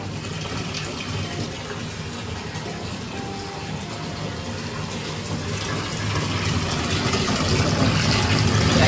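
A bathtub fills from a running tap for a foaming bath with Epsom salt, eucalyptus and spearmint, the steady gushing water rising slightly in loudness toward the end, with no talk.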